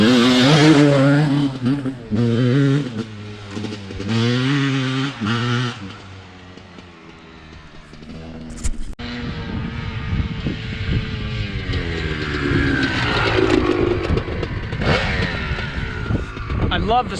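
Two-stroke engine running and revving, a loud buzzing drone that rises and falls, with a person talking over the first part.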